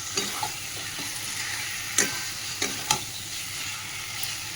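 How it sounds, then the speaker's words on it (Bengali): Chicken pieces coated in salt, turmeric and oil sauté over a lowered gas flame in a pan, giving a steady close sizzle broken by a few sharp spatula scrapes and taps. "চিকেনটা দিয়ে ভালো করে কষাবো"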